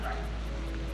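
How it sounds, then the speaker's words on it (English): A friendly dog met at a rainy coastal campsite during a bicycle tour gives a short, close bark, with faint background noise around it. "Rainy day, but we made a dog friend."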